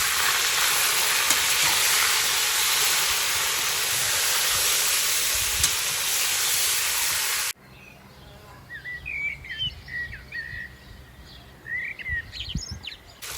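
Shashlik meat frying in a kazan gives a loud, steady, close sizzle for about seven seconds, then cuts off abruptly to a quiet outdoor scene with scattered bird chirps.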